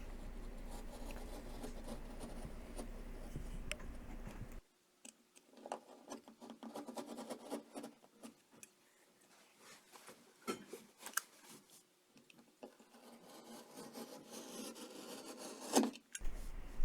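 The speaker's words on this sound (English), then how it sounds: "I'm just gonna cut straight edges all the way around the hole" Drywall being cut in straight edges around a large hole for a patch: close, dry scratchy rasping strokes in irregular bursts, with no talking.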